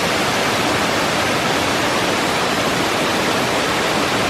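Waterfall in the Southern Black Forest of Germany, a dense, steady roar of falling water close by, broadband and unbroken throughout with no voices.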